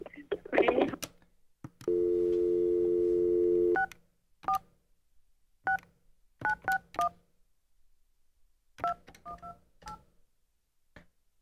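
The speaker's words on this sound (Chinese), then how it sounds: "那我们现在呢将电话拨给我们这位网友" Landline telephone being dialed: a steady dial tone runs for about two seconds, then stops, followed by scattered short keypad beeps in quick clusters, clear and fairly quiet against near silence.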